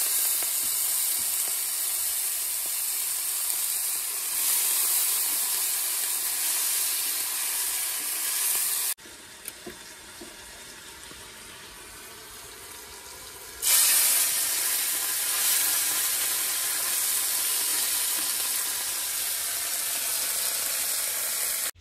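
Vegetables frying in hot oil give a steady, loud, dense sizzle close by, broken briefly by a quieter stretch before the hissing surges back at full strength; no one speaks.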